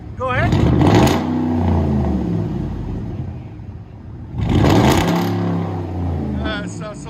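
2010 Ford F-150 with a 5.4L Triton V8 and straight-pipe true dual exhaust revving hard twice, each loud, close roar rising and then settling back, with people talking over it.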